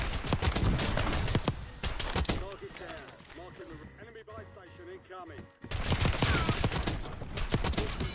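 Pistol fire in Warzone: quick sharp shots rattling close at the start and again at the end, separated by a quieter stretch, with player voices talking over parts of it.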